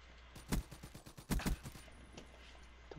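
Automatic gunfire in Call of Duty Black Ops 3 rattles in two short bursts of rapid shots, loud and close, then tails off into faint background noise.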